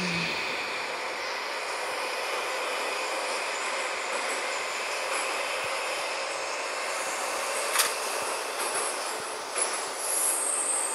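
Minsk metro 81-717 train running and coasting downhill between stations, a continuous loud rumble and hiss of wheels on rails with faint squeals and a few sharp clicks from the track, heard from inside the car.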